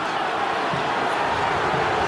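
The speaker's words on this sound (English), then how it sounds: "Crowd booing." Rugby league crowd in a big stadium during an Eels versus Warriors match, a steady dense roar with a booing tone sustained throughout, no clear breaks.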